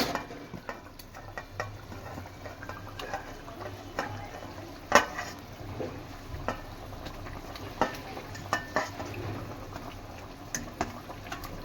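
Chela fish go into a pan already cooking with potatoes and vegetables for a Bengali fish curry, bringing a low steady simmer and sizzle. Soft stirring scrapes and a few sharp clinks of utensils against the pan sound at irregular intervals.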